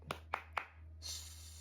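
A classroom does a rhythmic focus clap during a microteaching lesson, three sharp, evenly spaced claps followed by a brief rushing sound over a low hum.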